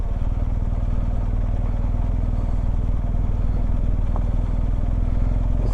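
A BMW GS adventure motorcycle idles and chugs steadily while descending an off-road slope with clutch and brake held, its engine loud and close throughout with a few faint clatters over the rough ground.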